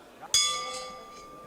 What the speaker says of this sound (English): The bell has been rung for round 2